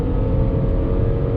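Engine of a 2020 Ford Fusion midsize car pulls under throttle, a steady, fairly loud low hum heard briefly from inside the cabin.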